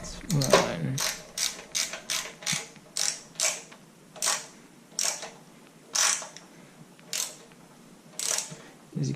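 A hand ratchet tightens the oil pan bolts on a small block Chevy, with a gasket being compressed: about a dozen short, crisp bursts of clicking in a regular back-and-forth rhythm, close and fairly quiet, with no speech.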